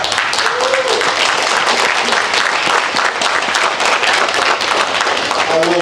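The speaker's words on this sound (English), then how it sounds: "I think that deserves a big round of applause" Loud, sustained applause from a crowd at a press event, dense clapping filling the whole stretch with voices faintly mixed in.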